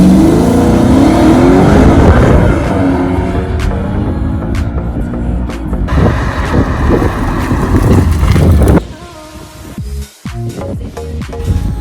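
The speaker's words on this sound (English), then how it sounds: "I'm going to jump in the car, take it for a spin." A supercar drives and accelerates along a straight, flat road. The engine roars and revs loudly and up close, with gear changes, heavy wind buffeting and a sudden drop in noise near the end. Nobody speaks.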